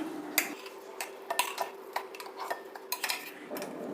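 A spoon scrapes a coarsely ground mixture out of a mixer jar into a bowl, making close, light metallic clinks and taps in an irregular series, quiet and without talk.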